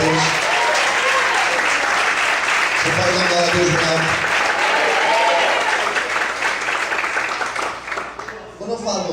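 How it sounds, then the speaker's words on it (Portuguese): Congregation applauding during an evening church service, steady dense clapping sustained throughout while a preacher's voice continues speaking over it. "Você pode aplaudir e glorificar a Deus."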